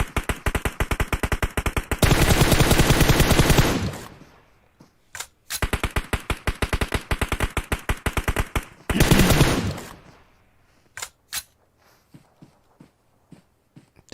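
Automatic gunfire in the mobile battle royale game PUBG Mobile during an esports scrim, with rapid sustained bursts separated by short pauses, followed by scattered single shots and sparse clicks.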